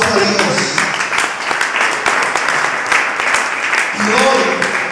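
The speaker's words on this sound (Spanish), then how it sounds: "Dale un fuerte aplauso a Dios." A church congregation applauds, a dense steady wash of clapping from a crowd filling the room, loud and continuous with voices mixed in.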